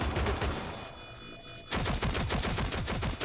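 Fast full-auto bursts from a P10 Roni submachine gun in the video game Rainbow Six Siege, loud and close, with a brief lull between two sustained strings of shots and no talking.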